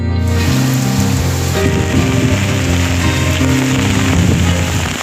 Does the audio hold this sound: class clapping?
no